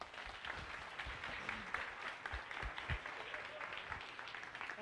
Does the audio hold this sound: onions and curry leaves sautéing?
no